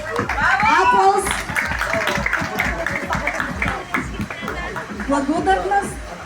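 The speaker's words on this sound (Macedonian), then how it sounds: "Аплауз." Crowd clapping at a charity run event, honouring a director who ran five kilometres: scattered applause mixed with lively chatter and children's voices, steady and close.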